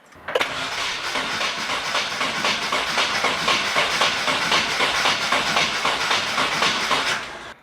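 A Nissan 240SX engine, unstarted for two years, cranks steadily and rapidly for several seconds without catching, a loud continuous churning starter sound that stops abruptly.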